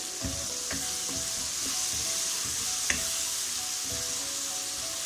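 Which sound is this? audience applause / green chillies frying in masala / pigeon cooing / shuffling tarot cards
green chillies frying in masala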